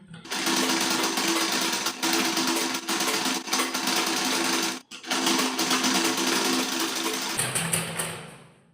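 An electric sewing machine stitching a strip of fabric onto a blouse, running in a loud, continuous, close-up whirring drone with a very brief pause midway and slowing near the end, with no talking.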